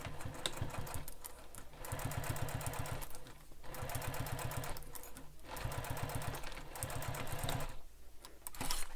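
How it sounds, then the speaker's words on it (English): Close, rhythmic sewing machine runs top-stitching the edge of a crossbody bag: several bursts of fast needle chatter separated by brief pauses, with no voices. "I'm going to top stitch this top edge using the seam allowance given in the pattern"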